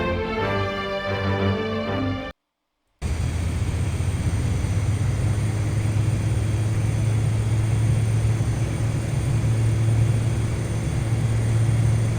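Steady, loud drone of an airplane's engine in flight fills the cabin after a brief gap, a constant low hum with broadband rush throughout.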